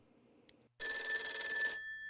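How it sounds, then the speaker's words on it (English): A telephone rings in the video game Persona 4 Golden, a loud electronic bell trill that starts suddenly after a short chime and holds steadily for about a second. "The phone is ringing."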